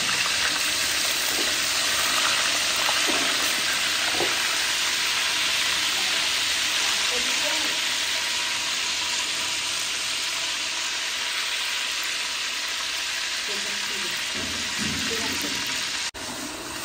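Onion paste frying in a large cooking pot, one of several pots on two gas burners while a ghol fish dish is prepared, a steady broadband sizzle that holds loud and unbroken throughout, with faint clinks underneath.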